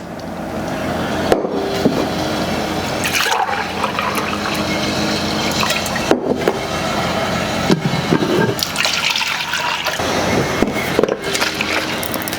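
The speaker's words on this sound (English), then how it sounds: "So 4 cups of milk into our saucepan." Four cups of milk pour into a saucepan in a steady, close liquid rush, with small splashy bursts spread through the pour.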